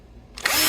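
A Bosch power drill spins up and bites into a guitar headstock to bore tuner holes, a quiet lead-in followed by a sudden loud, high whine that holds to the end.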